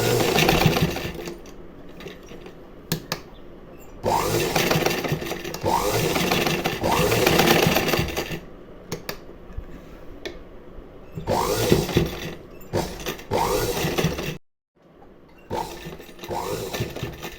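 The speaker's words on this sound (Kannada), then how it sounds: "ಈ ಥರ ಮಿಷಿನ್ನಲ್ಲೇ ನಾವು ಸ್ಟಿಚ್ ಮಾಡ್ಕೋಬೋದು" A sewing machine stitches a hook-and-eye strip onto fabric in loud, rapid bursts of needle clatter separated by short pauses, with a longer silent gap near the end before stitching resumes.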